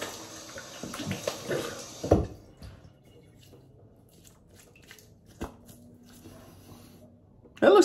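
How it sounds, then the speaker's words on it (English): Tap water splashes as shaving cream is rinsed off a face around a goatee, with a burst of running and splashing early on, then quieter drips and small splashes, ending in a louder rush. "I'm gonna wash this off to see what it looks like without the shaving cream in it."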